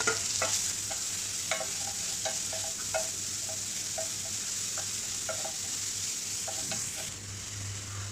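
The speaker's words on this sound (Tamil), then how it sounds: "ரெண்டும் பொரிஞ்ச உடனே வெங்காயமும் வரமிளகாயும் போட்டு நல்லா வதக்கிக்கோங்க" Onions and dried red chilies sautéing in oil with popped mustard seeds and cumin for a Tamil greens kadaiyal, a steady close sizzle with scattered crackles and faint stirring throughout, no voices.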